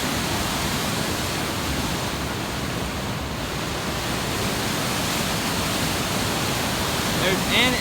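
Water rushes over a river dam on the Middle Fork Stanislaus in a constant, dense roar, broad and unbroken, with wind buffeting the microphone near the end.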